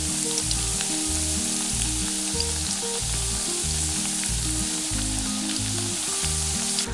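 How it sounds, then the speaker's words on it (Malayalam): Rice murukku spirals frying in hot oil over medium heat, a steady close sizzle and bubbling that runs continuously with no voices. "ഇതൊരു മീഡിയം ഹീറ്റിൽ ഫ്രൈ ചെയ്തെടുത്താൽ മതി."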